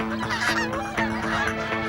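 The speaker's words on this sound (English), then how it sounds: "The local geese are heading south to safety." Geese honk loudly and close, several overlapping nasal calls in rapid succession during a short burst.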